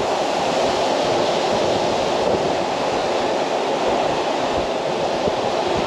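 A powerful storm surf on the Crimean coast roars as a constant, heavy wash of crashing waves, loud and unbroken from start to finish, with no voices over it.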